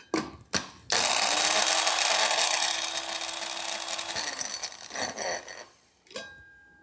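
A spice grinder whirs loud and close as it grinds whole spices down to a finer texture, a steady motor drone with rattling contents that ends in short bursts and clicks.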